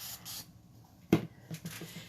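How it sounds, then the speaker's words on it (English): Water sprayed from a spray bottle onto a used hummingbird glass-etching transfer: one short, sharp hissing spritz in a quiet room, with faint softer bursts around it. "I'm going to spray it with water."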